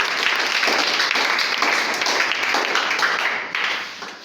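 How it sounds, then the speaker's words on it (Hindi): An audience claps to welcome a speaker at a Genius Academy motivational gathering, a dense, steady wash of many hands that holds for several seconds and fades slightly near the end. "तालियों के साथ स्वागत करें"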